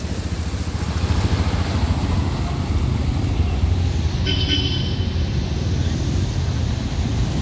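Motorcycles ploughing through floodwater on a flooded Manila street during a typhoon, a steady low rumble of engines and sloshing water with a brief horn-like toot midway.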